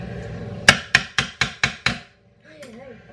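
A rubber mallet striking in six sharp, evenly spaced blows, close and loud, followed by a short silence and a brief voice.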